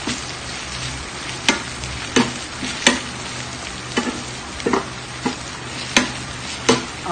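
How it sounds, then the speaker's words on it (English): Food sautéing in a pan for a Cambodian dish keeps up a continuous sizzle, with sharp utensil scrapes and knocks against the pan every second or so. "And I'm just going to saute it."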